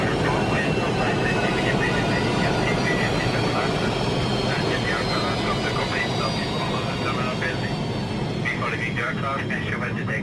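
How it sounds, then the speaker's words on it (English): A sampled aeroplane drones as a steady, broad engine roar in an album track, with a murmur like voices mixed into the low rumble throughout. "An aeroplane, right?"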